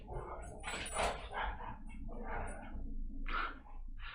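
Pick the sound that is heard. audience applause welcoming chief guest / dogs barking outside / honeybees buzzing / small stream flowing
dogs barking outside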